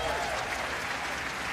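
An audience at a comedy awards show breaks into loud, dense applause that fills the space evenly before tapering slightly.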